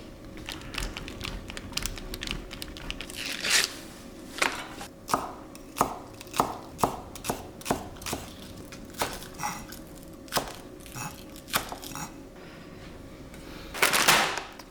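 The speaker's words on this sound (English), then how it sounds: "cut the green onion up" A knife chops green onion on a cutting board in crisp, close, evenly spaced knocks that come in short runs with pauses between, with no talking.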